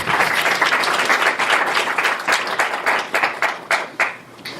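Warm audience applause greets a guest lecturer at a university speaker series, a dense steady wash of clapping that thins and fades toward the end.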